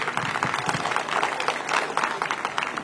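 Steady applause from an audience fills the clip, dense clapping at a moderate level throughout with no clear talk.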